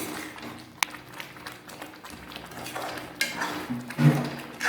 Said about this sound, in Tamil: இன்னும் கொஞ்சம் கவனமாக கிண்டிகிட்டு இருக்கணும்.